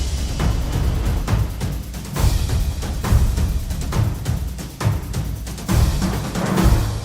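Orchestral and epic percussion layered in a steady groove for epic music: dense booms and hits repeat without pause, loud and full throughout, with no voice.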